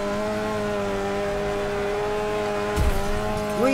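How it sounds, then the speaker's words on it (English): Car tires skidding and squealing in the racing video game Wreckfest, a sustained tonal screech over a steady engine drone, with a sharper burst of squeal and rumble near the end. "I'm just out here doing mad skids."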